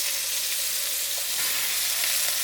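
White rice hits a hot pan for garlic butter chicken fried rice, setting off a loud, continuous hissing sizzle that holds steady throughout with no voices.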